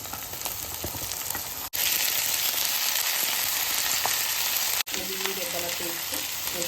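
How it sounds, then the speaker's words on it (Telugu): Ivy gourd pieces sizzle and fry in a hot pan with browning onions, a loud, steady crackling hiss close up, broken by two brief cuts. "దొండకాయ ముక్కలు వేసేసుకుందాం."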